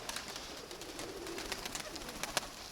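Pigeons in a loft, among them birds prone to sudden take-offs, cooing softly and shuffling close by, with scattered sharp flutters and wing clicks over a steady low hum of the room.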